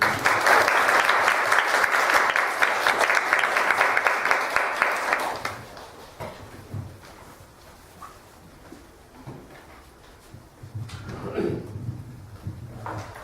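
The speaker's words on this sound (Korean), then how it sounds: "우리 박수 한번 치겠습니다" Church congregation claps together for about five seconds, a dense steady burst that stops abruptly, followed by quiet room murmur and a soft voice near the end.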